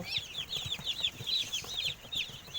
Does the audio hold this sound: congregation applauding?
no